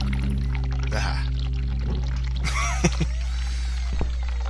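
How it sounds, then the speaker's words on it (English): Bathwater pouring and spilling across a bathroom floor in the horror game The Cat Lady, a steady watery pour with small splashes and drips over a constant low hum. "The water from the bath has completely flooded the bathroom floor."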